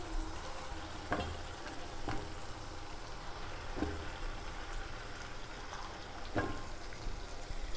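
Pieces of broiler chicken fry in a pan with a steady, moderately loud sizzling hiss, broken by a few soft scrapes or knocks from stirring.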